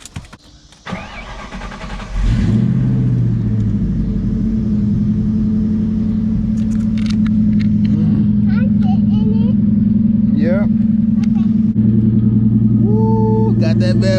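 A Ford Mustang cranks and fires up, then settles into a loud, rumbling idle with several blips of the throttle, while people talk and exclaim nearby.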